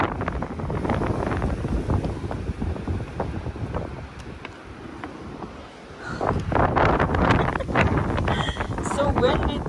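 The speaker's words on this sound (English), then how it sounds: "So windy too." Strong wind on a beach buffets the microphone in heavy continuous gusts, easing briefly in the middle before roaring back.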